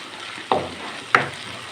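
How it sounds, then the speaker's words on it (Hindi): Garlic paste frying in hot ghee and stirred in a pan, a steady low sizzle with two short scraping stirs close by. "घी गर्म है, 3-4 चक्कर इस तरह इसको देंगे तो लहसुन जो है वो इंशाल्लाह फ्राई हो जाएगा"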